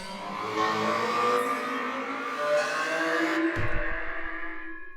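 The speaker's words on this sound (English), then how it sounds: "Grindy riser." A grinding synth riser preset from the Octamorph Forge Edition builds with rising, engine-like tones, then drops into a low rumbling thud that fades out.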